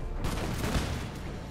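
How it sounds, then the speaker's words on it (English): Cannon fire rips through its own regiment on a hillside battlefield in the Imperial Splendour strategy game, a sustained rolling roar of booming shots and crackling musketry with a few sharper blasts standing out, no voices. "now they fire cannon through their own regiment"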